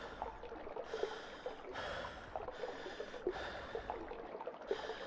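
A game character in The Backrooms pants steadily in rhythmic breathy bursts, quiet and close, repeating about once a second with no talk over it.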